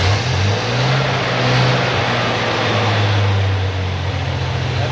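Car engine running after a start, a loud close steady idle with a deep droning hum and a faint rev swell partway through.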